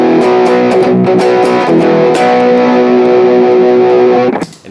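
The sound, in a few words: electric guitar through over-the-top distortion pedal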